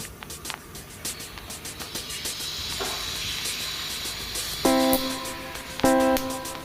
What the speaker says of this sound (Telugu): ఆ తర్వాత తాలింపు గింజలు వేసుకొని దోరగా ఫ్రై చేసుకోండి.